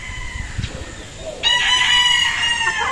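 A Kelso gamecock rooster crows once, loud and close, after a few soft clucks and scratchy farmyard noises.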